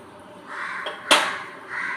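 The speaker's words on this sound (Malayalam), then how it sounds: "ഇതാ കാക്കച്ചി വന്നു." A crow caws nearby while appam is being made, giving a couple of harsh calls with a sharp click between them over a faint background hiss.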